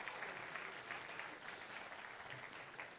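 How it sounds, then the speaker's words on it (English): An audience at a Law Day ceremony applauds steadily for a few seconds, a dense, even patter of many hands clapping at moderate loudness. "Let's give her a round of applause"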